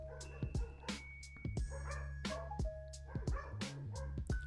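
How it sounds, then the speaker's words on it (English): Several dogs bark in short, sharp bursts and yips indoors nearby, with a few whimpers mixed in, the barks coming in irregular clusters over a low steady hum. "If you hear the dogs barking in the background"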